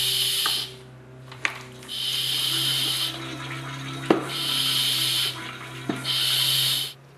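Oil being sucked out of a Honda lawnmower crankcase through a hose, a steady hiss that starts and stops in three long bursts of several seconds each, separated by brief pauses and small clicks, close and fairly quiet, with a low hum underneath.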